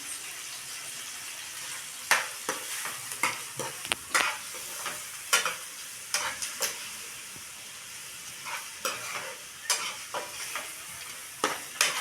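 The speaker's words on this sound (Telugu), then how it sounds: "కరివేపాకు అయితే వేస్తాం ఇప్పుడు" Curry leaves sizzle in hot oil in a home kitchen pan as a spoon stirs, giving a steady frying hiss broken by sharp scraping stir strokes.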